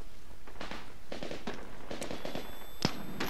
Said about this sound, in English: I'm down by grenades.